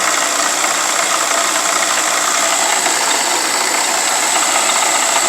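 NV4500 manual transmission with its output shaft spinning in gear, giving a steady, loud mechanical whir and hum that holds evenly throughout with no talking.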